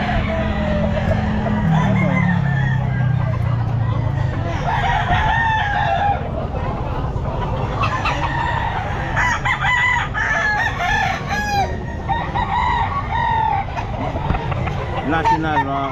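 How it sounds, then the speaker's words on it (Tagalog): Several roosters crow repeatedly at a busy Sunday pet market, their calls rising over constant crowd chatter and nearby talk, with a low steady hum underneath. "Manok."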